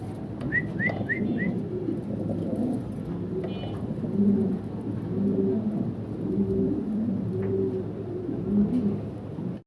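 Mundi pigeons, large healthy birds kept in a loft, coo in low murmuring phrases across the whole stretch, close by and steady, with a few brief higher whistled chirps early on over a constant background hum.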